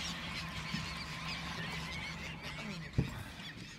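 A flock of birds calls over fishing boats while anglers fish for striper in a creek, a continuous busy clamor with one sharper knock near the end.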